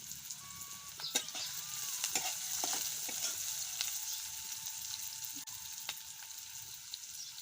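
Garlic, cumin and mustard seeds fry in oil with a soft, steady sizzle and occasional stirring clinks, fairly faint, with a chicken clucking faintly in the background.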